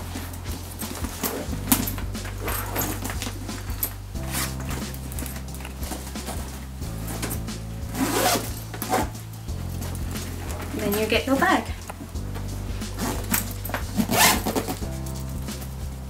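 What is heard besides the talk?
zipping up the side zips of a Stackers weekend bag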